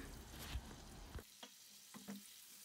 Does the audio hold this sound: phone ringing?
no